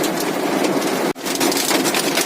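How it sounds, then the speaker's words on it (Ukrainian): Heavy downpour drumming on a car in traffic, a loud dense continuous hiss of rain hitting the roof and glass, broken by one brief dip, with no talking. "Ось така злива."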